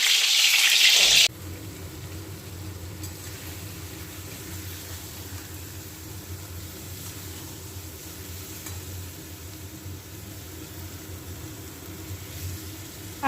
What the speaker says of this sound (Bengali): আর এই আলু সয়াবিনের তরকারি আদা রসুন পেঁয়াজ দিয়ে ভালো করে কষিয়ে নিচ্ছি